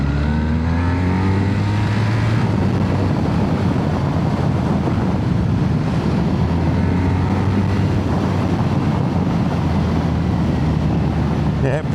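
2025 BMW R1300R motorcycle accelerating on twisty roads, a steady engine drone rising and settling beneath heavy wind buffeting, with a rider talking over it.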